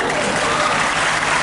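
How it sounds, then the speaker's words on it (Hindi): An audience at a religious discourse on the Tattvartha Sutra claps together in sustained, dense applause that stays even and fairly loud throughout. "आप ताली तो बजाओ ताकि इनका उत्साह बढ़ जाए"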